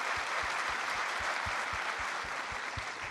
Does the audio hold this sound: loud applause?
yes